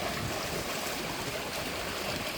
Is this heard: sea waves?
yes